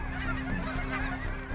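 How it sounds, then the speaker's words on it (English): A dense flock of snow geese and Ross's geese honks continuously and loudly, a close, overlapping chorus of calls with no talk, at an early-season waterfowl hunting spot in central Saskatchewan. "it's snow geese, it's Ross's geese, it's white front, speckled bellies, pintails and mallards and other ducks as well"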